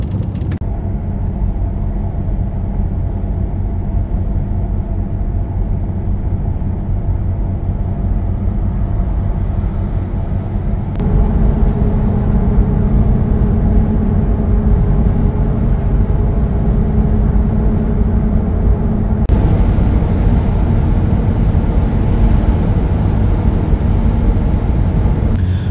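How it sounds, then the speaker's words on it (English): Steady highway cruising in a third-generation Toyota 4Runner with 5.29 gears, a continuous low engine and road drone throughout with no talk, growing slightly louder partway through. "when I'm driving on the highway doing about like 80 or 90 or 100 kilometers an hour, my RPMs are definitely a little bit higher"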